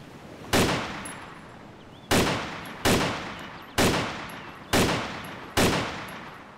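Six sharp gunshots ring out in the DayZ survival video game, spaced irregularly about a second apart, each a loud crack with a decaying tail and no talk over them.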